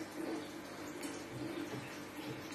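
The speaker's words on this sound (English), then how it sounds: "if we pour hot water on this side" Hot water poured in a small science experiment, a quiet continuous splashing stream heard up close with no talking.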